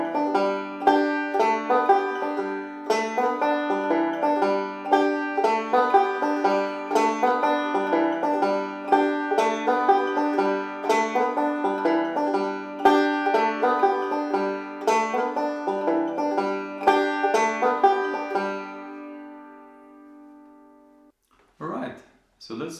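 A banjo plays a forward roll etude, with steady picked notes ringing in an even rolling rhythm for about twenty seconds, then stopping before a brief bit of talk at the end.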